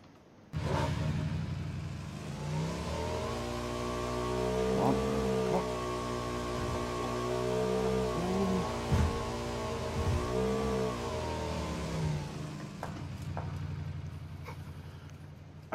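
A motorbike engine in a video game revs steadily, its pitch rising and falling in long swells across about fifteen seconds, loud and continuous with a faint whoosh on top and no talking.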